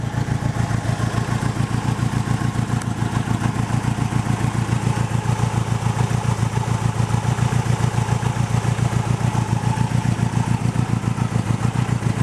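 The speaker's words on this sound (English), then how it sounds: "It's very loud from the exhaust and looks like it's shaking a bit" An old Toyota Corona ST141 engine idles on a cold morning with a loud, steady, throbbing exhaust rumble, close up and unbroken, with no voices.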